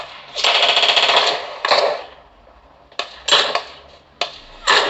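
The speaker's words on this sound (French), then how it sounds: "Il y en a qui me tire dessus, je ne vois pas où il est." Bursts of automatic gunfire from a video game played on a Samsung Galaxy Tab S5e, a long rattling volley followed by shorter separated bursts, loud and close with no talking.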